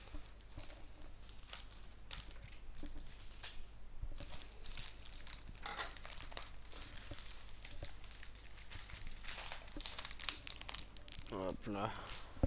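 Continuous crinkling and crackling of plastic wrapping being handled and pulled apart while unboxing a One Piece item, close up, with brief rustles and tearing bursts throughout.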